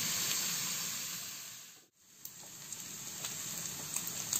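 Bacon lardons frying in a pot for marinated oxtail, a steady soft sizzle and hiss that drops out briefly midway and returns with faint crackles and pops, without talk.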